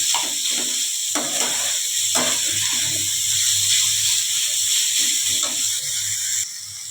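Sliced banana stem fries in a pan with turmeric, salt and spices, a steady hissing sizzle with intermittent scraping and clinks of stirring, moderately loud and close.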